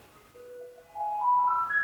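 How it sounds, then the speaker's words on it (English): A garbage truck arriving on a street in Taipei plays its jingle, a thin melody of single rising notes that sounds faint and distant over quiet background noise. "this is the sound of a garbage truck arriving in Taipei."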